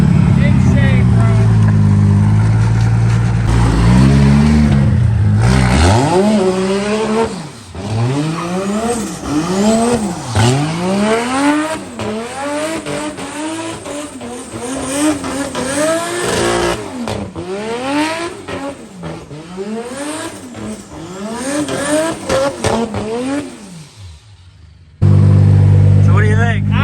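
A BMW E46 M3 fitted with a 1.5JZ engine pulls hard through several gears, its loud engine note climbing and dropping in repeated sweeps, with tire noise and a voice talking over the driving.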